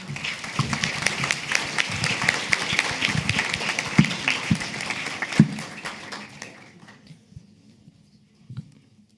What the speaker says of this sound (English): Applause is now in order.